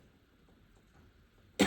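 A teacher with a cold gives a single loud, abrupt cough at the very end, following near-silence.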